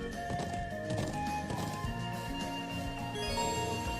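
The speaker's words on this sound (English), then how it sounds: "How to ride the horse." Steady clip-clop of a horse's hooves in the role-playing video game Trails of Cold Steel, layered over a continuous game music soundtrack.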